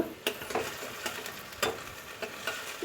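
Chopped ginger sizzles and spits in hot oil in a pan for a cabbage dish, a steady close frying hiss punctuated by sharp crackles and occasional stirring scrapes.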